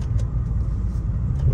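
Low, rumbling engine hum of a manual sports sedan at close range, steady with slight fluctuations and a faint rise in revs near the end as it downshifts into second gear.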